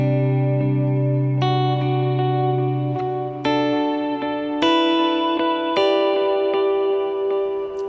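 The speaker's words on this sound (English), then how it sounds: "That's a much brighter reverb sound" An electric guitar through a Line 6 Helix with a bright reverb set between 300 Hz and 12 kHz plays a sequence of sustained chords and notes, each ringing out into a shimmering wash, loud and alone.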